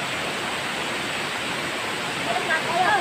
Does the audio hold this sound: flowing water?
yes